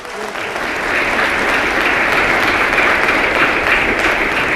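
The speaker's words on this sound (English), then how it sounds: "give him another round of applause." A crowd attending the mayor's 2016 State of the District Address in Washington claps loudly and steadily, a full round of applause that swells in the first second and holds for about four seconds.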